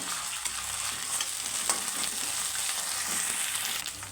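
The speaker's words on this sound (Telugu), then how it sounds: "అల్లం వెల్లుల్లి పేస్టు పచ్చివాసన బాగా పోయేదాకా బాగా వేపుకోవాలండి" Ginger garlic paste frying in a pan for egg masala curry, a steady close sizzle with faint stirring scrapes throughout, no voices.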